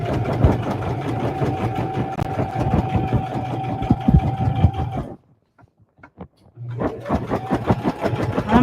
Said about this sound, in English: We're just stitching in the ditch.